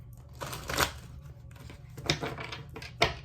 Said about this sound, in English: Let's just shuffle the cards a bit.